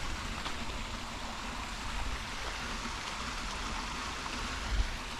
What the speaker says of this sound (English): Creeks are flowing.